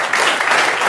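Audience applause breaks out at a township council meeting, a dense, steady wash of many hands clapping that holds loud and even for just under a second.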